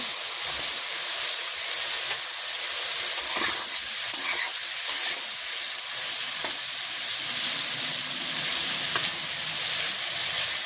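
Beetroot and papaya stems frying in a pan while being stirred, a steady loud sizzle with occasional scraping strokes throughout, close by and with no talking.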